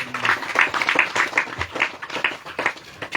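A congregation at a revival meeting claps in a loose burst of hand claps, a quick irregular patter that stays fairly close and lasts only a few seconds, with a little murmur mixed in.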